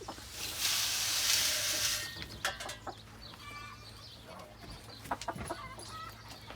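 Chickens cluck in short scattered bursts nearby on a farm in Lancaster, following a loud stretch of rushing noise at the start.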